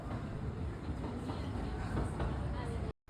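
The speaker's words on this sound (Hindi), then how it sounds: "ये इस तरह की ट्राम होती है।" A Zurich city tram running along its route, a steady loud rumble of wheels and motor with faint rail clatter throughout, cutting off abruptly near the end.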